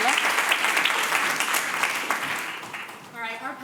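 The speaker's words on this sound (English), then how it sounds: "another round of applause for our wonderful panelists and a great conversation" An audience at an advertising and marketing panel applauds the panelists, with sustained clapping that slowly tapers off before a voice begins speaking near the end.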